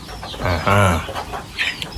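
Goliath chickens clucking close by, a short burst of throaty clucks with a louder squawk in the middle, over faint background noise.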